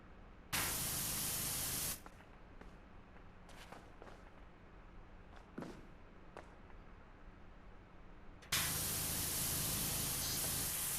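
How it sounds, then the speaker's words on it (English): Pressure washer spray in the video game PowerWash Simulator 2 at a mall, bursting on loud and broadband, cutting off, with quieter intermittent sounds in between, then starting again strongly near the end. "we're just going to spray this whole thing off"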